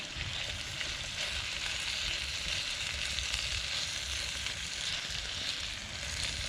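Steady, crackling sizzle of chilli chicken frying in a pan on a Trangia 27 series camping stove, continuous and fairly close, with no voices.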